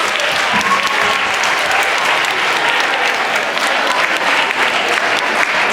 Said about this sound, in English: let's give Mr. Cory another great big round of applause